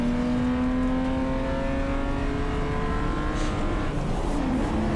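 BMW M3 race car engine at the Lone Star Bash track event, heard from inside while chasing another car: a continuous droning engine note with rising and falling pitch under load, steady and close, with a brief rush of noise at the end.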